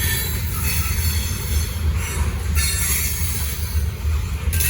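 A Norfolk Southern/CSX freight train passes close by, its cars rolling in a steady roar broken by wheel squeals and rhythmic rail clacks.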